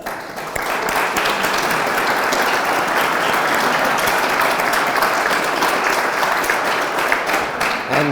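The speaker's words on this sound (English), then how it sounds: "I want to give them an applause" A crowd applauds steadily, a dense wash of many hands clapping at full volume for several seconds without pause.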